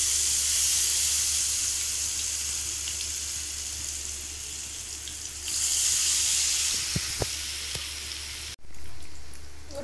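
Raw banana chilli pieces hit hot oil and set off a loud, hissing, broadband sizzle that swells partway through, with a few clicks, then cuts off abruptly near the end.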